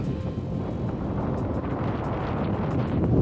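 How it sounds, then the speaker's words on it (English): Strong, cold morning wind in Death Valley buffets the microphone with a continuous low roar and rumble, close and steady for the whole stretch, no talking. "It's windy this morning."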